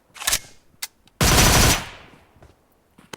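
Shotgun blasts in the mobile battle royale game PUBG Mobile: a short blast, a sharp crack, then a loud sustained burst of gunfire tailing off, followed by faint scattered clicks, close and loud with no talk.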